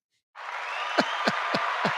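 Audience applause swells in and holds as a steady wash of many hands clapping, with a few louder, sharper claps standing out near the end.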